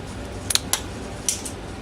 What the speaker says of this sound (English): These are some pretty heavy duty scissors.